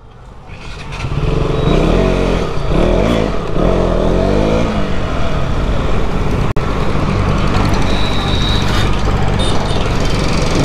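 A new motorcycle engine roars loudly and close, revving in rising and falling surges over a steady rumbling idle for about ten seconds, with faint background sounds.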